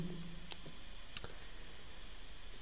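A single quick computer mouse click, close and faint, over quiet background hiss, as Simulink is started in MATLAB.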